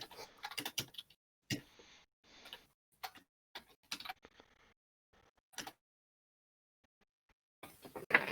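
Irregular bursts of soft clicking keys, with short runs and pauses, quiet and close, like someone typing briefly on a keyboard.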